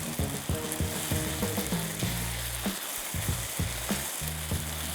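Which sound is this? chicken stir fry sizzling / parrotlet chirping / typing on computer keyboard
chicken stir fry sizzling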